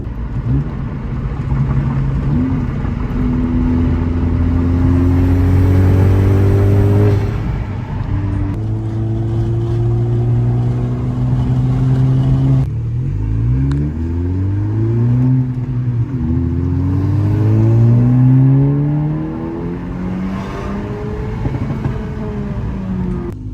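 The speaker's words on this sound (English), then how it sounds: "One thing I have noticed with these coilovers is there's a lot more road noise" Loud, steady road noise inside a Honda Civic cabin riding on stiff coilovers, with a deep droning rumble and engine tones rising and falling as the car accelerates and shifts, and no talking.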